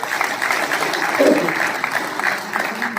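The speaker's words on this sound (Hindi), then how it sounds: "उसके लिए एक बार आप स्वयं अपने सब के लिए ताली बजा दीजिए" A crowd applauds themselves at an event honouring 1,500 auto and e-rickshaw drivers, a steady, fairly loud wash of clapping with a slight swell in the middle.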